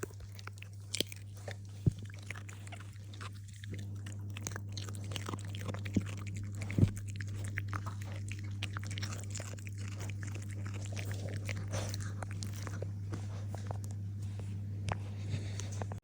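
A dog crunches raw carrots: steady, close chewing with repeated bites and scattered sharper cracks over a constant low hum, no talking.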